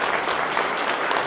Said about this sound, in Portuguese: Gente, uma salva de palmas para essa menina.